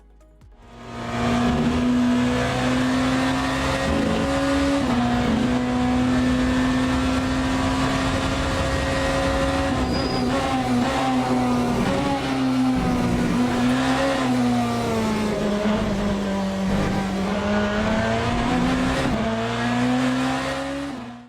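Hypercar engine in Le Mans Ultimate racing on the Le Mans circuit, a loud steady engine drone rising and falling with throttle for about twenty seconds, with brief tyre squeal and no talk.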